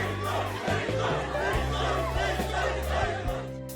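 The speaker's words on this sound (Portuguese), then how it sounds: "a multidão que lá estava gritava." A crowd at Fortaleza airport in August 2015 shouts and chants for Bolsonaro, a dense, continuous roar of many voices over a steady low droning background, with no pauses.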